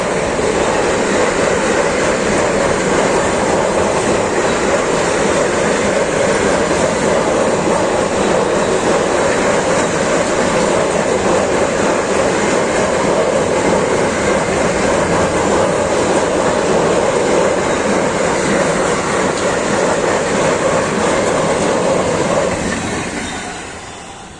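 An empty car-carrier freight train speeds past at about 100 km/h near Jejkowice, Poland. It makes a loud, close, steady rumble with rolling wheel clatter that fills the whole stretch and fades slightly at the end.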